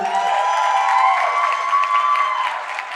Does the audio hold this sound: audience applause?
yes